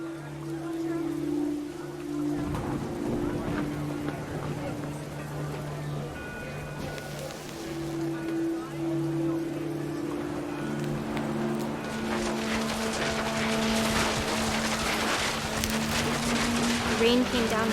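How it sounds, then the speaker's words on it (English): Heavy rain in the video game What Remains of Edith Finch: a steady hiss of downpour that grows denser and louder toward the end, under sustained low musical tones and a calm narrating voice. "The rain came down in buckets then"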